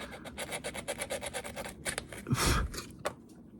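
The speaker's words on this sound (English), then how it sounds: "I would suggest just using a little sandpaper just to scratch it up." Sandpaper scratches the metal lug of a volume potentiometer in quick, rhythmic rasping strokes, close and fairly quiet, ending in a longer, heavier scrub.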